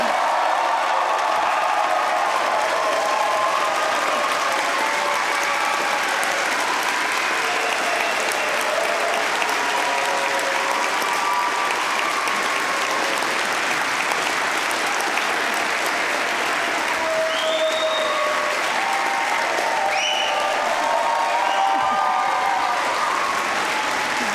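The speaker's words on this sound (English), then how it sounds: "Give these graduates a massive round of applause" A large audience at a university graduation ceremony applauding graduates, a long, dense, steady wash of clapping from many hands with a few faint cheers and whistles rising near the end.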